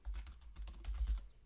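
Typing on a computer keyboard, a quick, close run of soft key taps in an irregular rhythm with no talking.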